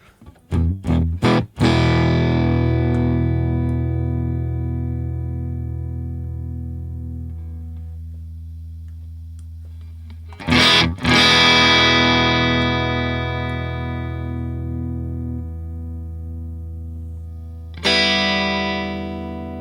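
Distorted electric guitar through a Deluxe Reverb amp model with treble at zero, strums ringing out and slowly decaying, with three separate chords struck a few seconds apart and no one talking.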